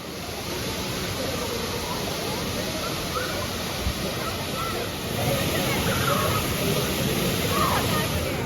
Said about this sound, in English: Waterfalls, check.